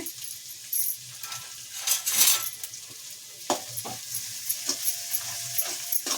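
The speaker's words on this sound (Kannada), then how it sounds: "ಇದು ಚೆನ್ನಾಗಿ ಎಣ್ಣೆಯಲ್ಲಿ ಫ್ರೈ ಆಗಬೇಕು ಕಾಳೆಲ್ಲ" Fenugreek sprouts fry in oil with a steady close sizzle, broken by scraping stirs of a spoon against the pan and occasional clinks, with no talking.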